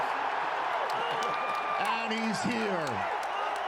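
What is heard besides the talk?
crowd cheering at the NFL draft in Green Bay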